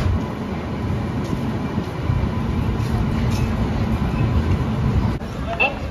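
The Chennai to Bangalore double decker train runs along with a loud, steady rumble and rattle heard from inside the carriage, and voices talk faintly beneath the noise.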